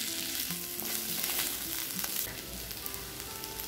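Cauliflower pepper fry with masala sizzling steadily in a pan, a continuous close crackle and hiss with occasional stirring scrapes and no talking.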